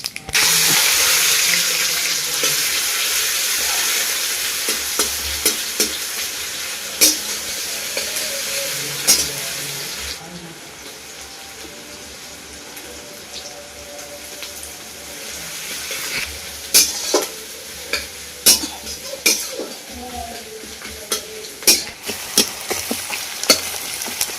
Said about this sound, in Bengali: পেঁয়াজটা যে একটু লাল লাল করে ভাজি